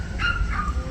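A child on a neighbouring balcony imitates animal sounds, giving two short yelping, dog-like vocal cries in quick succession at moderate distance.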